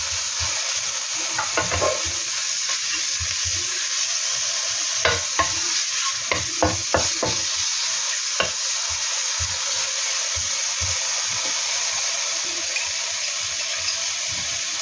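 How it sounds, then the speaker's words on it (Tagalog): Mushrooms and garlic stir-fried in a pan, a steady hiss of frying running throughout while a utensil scrapes and clacks against the pan in irregular bursts, close and fairly loud, with no voices. "Kasunod na po is ilagay na po natin ang ating mushroom."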